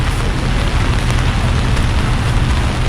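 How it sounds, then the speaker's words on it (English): Loud, dense rain roars steadily on a New York City street with a rumbling, wind-buffeted low end, constant throughout. "It's raining, guys."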